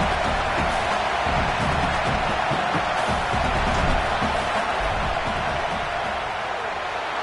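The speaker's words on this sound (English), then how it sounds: "This crowd trying to do its part to get inside the kicker's head." A football stadium crowd roars steadily during a field goal attempt, a dense and loud wall of cheering and noise that holds without a break.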